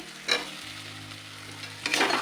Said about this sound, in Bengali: ভালো করে মশলাটাকে কষিয়ে নেবো। মশলা কষানো হচ্ছে